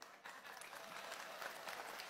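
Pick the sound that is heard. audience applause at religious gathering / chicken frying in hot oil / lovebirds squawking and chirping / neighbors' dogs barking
audience applause at religious gathering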